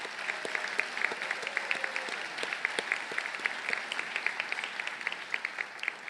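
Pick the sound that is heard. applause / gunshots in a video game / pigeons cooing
applause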